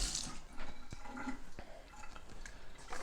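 Hot water from a tap runs into a cup for a few seconds, a steady faint splashing and trickle with a few soft clinks.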